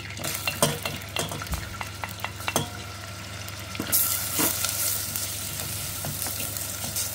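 Onions fry in a pan, giving a dense close sizzle over a low steady hum, with a run of quick spatula clicks early on and a brighter hiss that swells near the middle.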